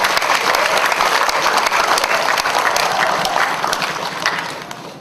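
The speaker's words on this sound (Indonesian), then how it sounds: "mari kita beri tepuk tangan yang meriah untuk prestasi anak" A crowd at an elementary school graduation ceremony claps steadily for several seconds, dense and close, then the applause thins out and fades toward the end.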